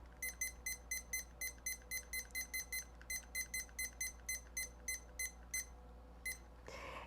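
A kitchen timer set while baking a pie beeps in rapid repeated bursts of short, high electronic chirps, about a dozen groups over several seconds, fairly quiet and alone before a soft rustle at the end.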